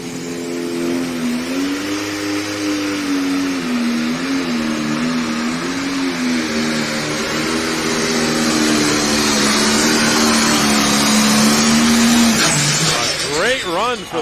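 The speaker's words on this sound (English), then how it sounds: "He's really going to be making power then in the motor, and he's ready to leave the line any moment here now." A pulling tractor at a truck and tractor pull in Canton, Ohio, roars through a loud, sustained engine run with a wavering pitch that swells and then drops away near the end, while an announcer talks over it.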